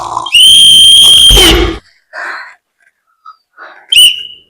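Loud, close human whistling: a sustained shrill whistle lasting over a second, followed by scattered breathy noises and a second short whistle burst near the end.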